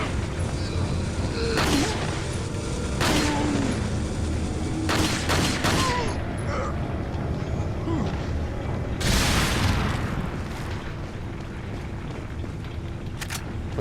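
Dynamite explodes in the video game Resident Evil 4: several loud, sharp blasts with rumbling booms, spaced a few seconds apart over a continuous noisy game background.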